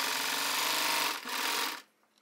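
A serger overlocks the edge of a fabric piece for high-waisted wide-leg trousers with a loud, dense, high-speed whirring buzz close by, briefly dipping once, then stopping abruptly after about two seconds.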